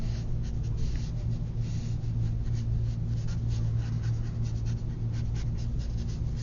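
Pencil scratches steadily across paper in close, continuous strokes, with a faint low hum beneath and no talking.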